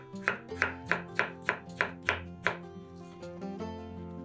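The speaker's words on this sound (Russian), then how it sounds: "Два соленых огурца нарезаем маленькими кубиками" A knife dices pickled cucumbers into small cubes on a board, with about eight steady, evenly spaced chops, then a few softer taps, over a faint musical background.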